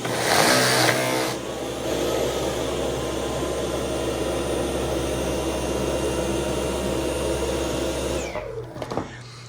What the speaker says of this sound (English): now we're gonna perform the same test for the Dyson V11 in auto mode